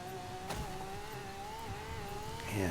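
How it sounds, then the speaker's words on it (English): Engine note of a Lamborghini Centenario in a video game, a steady, slightly wavering tone that holds through the moment with faint clicks and a small swell near the end, with no talk. "Lamborghini Centenario."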